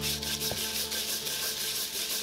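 A piece of iron is rubbed back and forth against a flat tile surface, a steady, close, gritty sanding scrape with rhythmic strokes and no talking.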